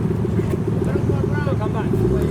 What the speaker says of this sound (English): next we have the orange Toyota Supra